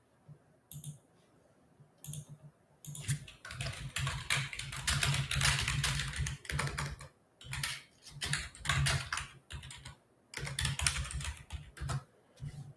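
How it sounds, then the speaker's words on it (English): Rapid typing on a computer keyboard comes in dense bursts of clicks, separated by short pauses, close and clear with no voices over it. "That was an important typing."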